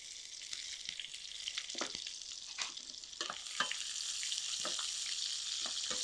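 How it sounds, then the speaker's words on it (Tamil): Onions sizzle and crackle in a pan for tofu vegetable biryani, a steady frying hiss with scattered stirring scrapes, fairly soft and close with no talking. "கொஞ்சம் வெங்காயம் எடுத்திருக்கேன் வெங்காயத்தையும் இதில் அப்படியே சேர்த்துலாம்"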